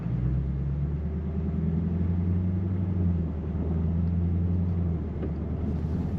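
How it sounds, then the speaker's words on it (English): A Lexus GS-F with an RR Racing crank pulley kit idles and revs in neutral, a steady, loud low engine rumble with slight rises in pitch, heard alone. "if we drop it into neutral, it feels like it's more willing to rev"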